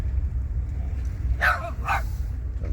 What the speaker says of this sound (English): you got this lady walking her dogs